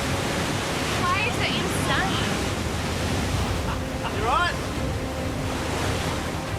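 Ocean surf surges and crashes onto a Samoan shoreline during a heavy swell, a steady roar of waves and wind noise with people talking over it.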